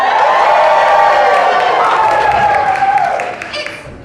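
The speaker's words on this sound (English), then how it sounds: "let's give a big whoop and a cheer for bunting!" A festival audience at a poetry performance cheers and claps after a recited verse, a loud, dense crowd swell holding steady before easing off near the end.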